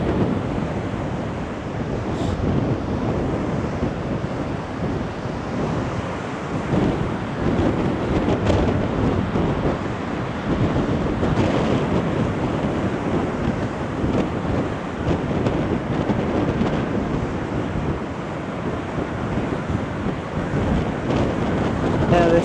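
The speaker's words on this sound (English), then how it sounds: "this wind is definitely giving the whole of the northwest a good beating" Strong gusty wind buffets the microphone on the Blackpool seafront promenade, a continuous loud roar with sea surf mixed in for the whole stretch.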